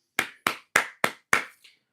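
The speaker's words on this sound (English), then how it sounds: "You said make a clap." Five sharp hand claps in quick succession, crisp and close, followed by a faint sixth tap.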